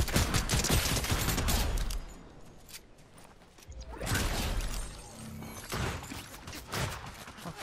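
Gunfire in Fortnite, loud clustered shots and crashing bursts at the start, a quieter stretch, then more rapid volleys and impacts.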